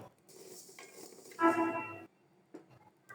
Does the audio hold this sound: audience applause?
no